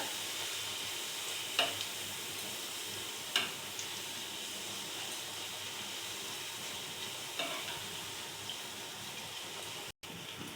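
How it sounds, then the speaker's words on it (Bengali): Puris deep-frying one at a time in a pan of hot oil, giving a steady, even sizzle with a few soft pops and spatters, no voices, close and moderately quiet. "আমি এক এক করে এখন ভেজে নিচ্ছি।"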